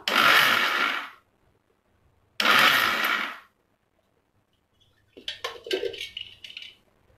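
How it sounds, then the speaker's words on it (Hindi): A mixer grinder grinds coconut for a dry chutney in two short roaring bursts separated by silence, followed by light clinks and rattles of the jar being handled. "मोटा है काफी, थोड़ा सा और ग्राइंड करेंगे हम इसको"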